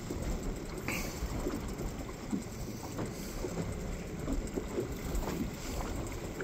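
Steady wind rushes over a lake around a fishing boat, a constant broadband roar with buffeting against the microphone, loud and continuous, with no distinct voices.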